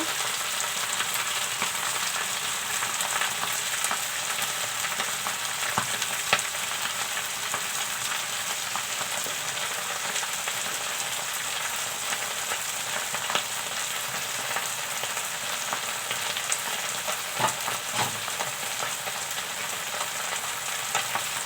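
Radish greens sizzle steadily in a pan for a long stretch, a dense even frying hiss with occasional soft stirring scrapes, close-up and continuous without speech.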